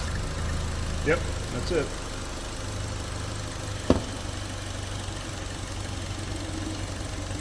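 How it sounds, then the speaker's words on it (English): A car engine idles roughly with a faulty valve cover, a low steady chugging hum running throughout at moderate level, broken by a few brief knocks and a short spoken remark. "you hear the motor chugging along"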